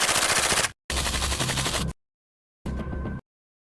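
Bursts of 9mm MP5 submachine gun fire, three rapid automatic strings, the first two nearly back to back and a shorter one after a gap, loud and close.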